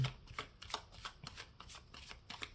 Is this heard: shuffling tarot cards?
yes